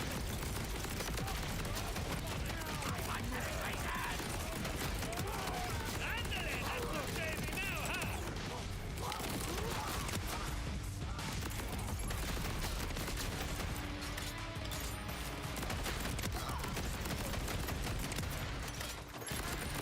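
Rapid-fire weapon in a shooter video game, a sustained dense stream of shots running almost without pause, loud and steady, with someone talking over it.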